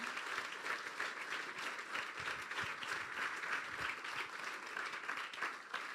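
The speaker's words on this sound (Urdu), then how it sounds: "تو تالی بجا دو یسوع لیے، میرے لیے نہیں یسوع کے لیے بجائیں" Members of an apostolic church congregation in Dubai clap for Jesus during a sermon, giving a fairly quiet but continuous wash of many hands with a few sharper individual claps standing out.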